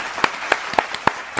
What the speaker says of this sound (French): Applaudissements, confettis.